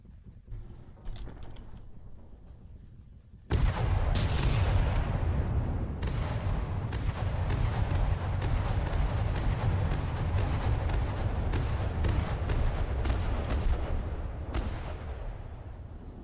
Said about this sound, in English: Just, like, fire straight at it. You're a goddamn railgun.